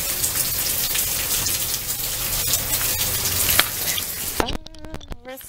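Steady rain falls and patters on surfaces in a dense, close hiss that runs throughout, then abruptly drops away near the end, leaving a few sparse knocks and clicks.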